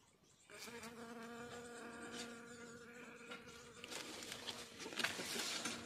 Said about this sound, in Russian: Работает пчелка.